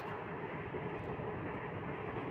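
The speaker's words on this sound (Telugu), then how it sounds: "మన ట్రైన్ అయితే స్టార్ట్ అయిపోయింది సామర్లకోట జంక్షన్ నుంచి" Continuous low rumble and rhythmic clatter of a passenger train in motion from Samalkot Junction toward Annavaram, steady and close, with no voices.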